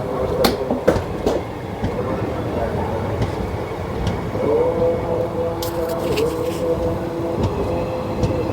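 Mandla–Nagpur Express passenger train rolling past loudly and up close, a continuous rumble with sharp clattering wheel clicks at the start and a long high wheel squeal in the second half.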